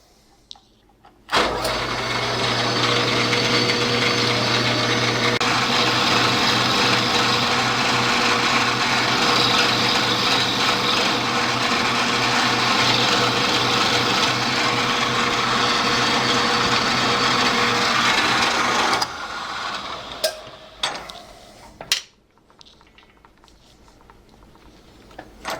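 A milling machine touches off the crankshaft ends of a Stuart 10V steam engine casting. A loud, steady motor whine runs for about eighteen seconds, then winds down into a few faint taps and clicks.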